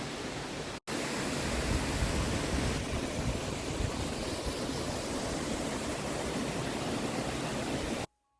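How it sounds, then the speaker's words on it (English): Steady rushing water from a waterfall in a wood fills the air, a constant broadband roar that ends abruptly after a brief cut near the start. "That's a waterfall you can hear behind you."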